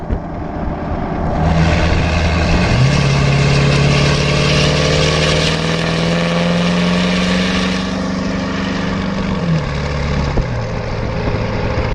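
A Ford 6.7 Powerstroke diesel engine fitted with a single non-VGT turbo, a loud close steady drone with a rising turbo whine that holds, then drops back to a lower idle tone.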